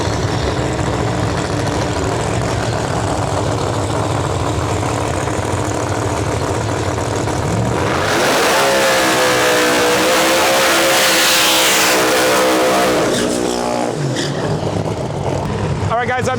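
Drag race cars roar down the strip at a Canadian outlaw drag event, a loud sustained engine blast with rising pitch sweeping past around the midpoint, under crowd noise and a commentator's voice.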